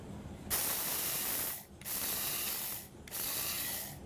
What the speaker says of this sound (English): I got this here spice grinder.